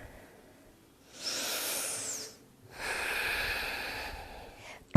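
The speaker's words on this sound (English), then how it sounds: "One more deep breath." During a yoga class, two slow, deep breaths pass close to the microphone: a long airy inhale, a short pause, then a longer breathy exhale.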